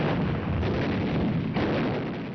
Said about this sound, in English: Now the Japanese opened up from a network of tunnels, caves and bunkers.